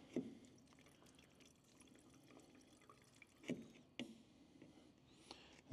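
Fuel sample draining from the sump of a Cessna 177RG Cardinal, heard as faint drips and small liquid trickles with a few sharper splashes, close by and quiet, with no talking.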